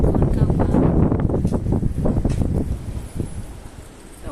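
A strong storm wind blows outdoors in a home garden, buffeting the microphone with deep, rumbling gusts that are loud at first and gradually ease.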